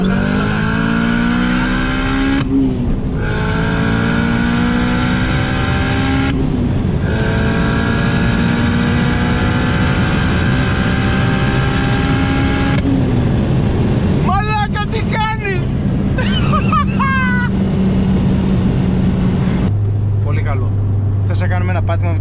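A turbocharged Honda Type R with VTEC accelerating hard, heard loud and close from inside, engine pitch climbing steadily through the revs with brief dips at each gear change, and a sharp drop near the end as the throttle lifts.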